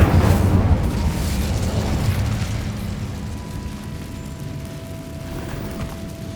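Incendio fire spell cast in Hogwarts Legacy: a loud, rumbling whoosh of flame that bursts at once and slowly decays into a low roar over several seconds, with a faint tonal hum late on.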